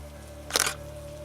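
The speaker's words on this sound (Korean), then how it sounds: "찰칵하는 소리와 함께 사진관이 번쩍였다." A single camera shutter click, short and crisp, in a quiet studio setting with a steady low hum underneath.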